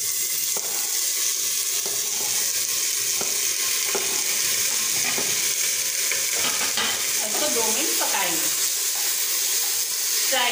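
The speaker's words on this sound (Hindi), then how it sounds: "प्याज थोड़ा भून गया है, अब हम इसमें डालेंगे बाकी सब्जियां।" Onions and vegetables fry for sambar in a steady, loud sizzle that keeps going throughout, with occasional stirring and scraping over it.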